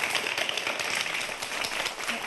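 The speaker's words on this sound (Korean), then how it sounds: "교수님께 여러분 박수 부탁드리겠습니다" An audience at a televised science lecture applauds, a dense, even patter of clapping that stays steady throughout.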